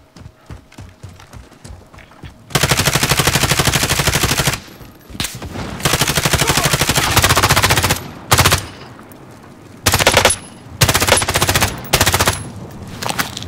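Long bursts of rapid automatic gunfire in the video game Warzone, loud and close, broken by short pauses and single shots, with faint game sounds between volleys.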